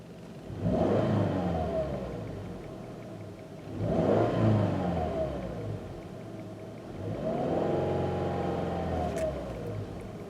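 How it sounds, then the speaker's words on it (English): A 2015 Subaru Forester 2.5i revs three times in park, each rise and fall clear and fairly loud from inside the cabin, with quiet idle between the surges. "What we're going to do now is rev the engine a little bit just so you can hear that with cabin noise."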